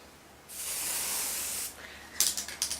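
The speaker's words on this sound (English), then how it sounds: "we're going to actually spray through the front first, and then we're going to spray down the back." Green hairspray sprays from an aerosol can in one steady hiss of about a second, close by and alone, followed by a few short sharp bursts.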